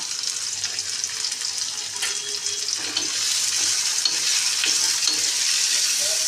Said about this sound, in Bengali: চলুন পেঁয়াজগুলো একটু ভাজা ভাজা হোক